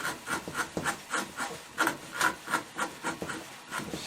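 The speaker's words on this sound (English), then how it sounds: "take that flat gouge again. I'm going to round this over underneath his nose" Rhythmic rasping strokes of a flat gouge carving cottonwood bark into a wood spirit face, rounding under the nose; about a dozen steady scrapes repeating roughly every third of a second, close and fairly loud, with no talk.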